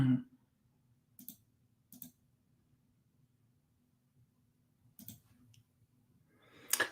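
A computer keyboard clicks in a few short, separate bursts of typing against a quiet background, close and fairly faint.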